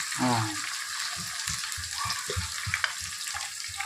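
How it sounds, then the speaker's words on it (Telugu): Food fries in a pan for a gongura chicken curry and biryani. A steady broadband sizzle carries through, with rhythmic low thumps of stirring and a brief voice near the start. "ఇప్పుడు మనం ఇది వేగుతూ ఉంది కదండి"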